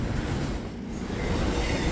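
An intermodal freight train carrying piggyback trailers rolls past with a steady, close, broad rumble and rattle of wheels on rails, and no voices.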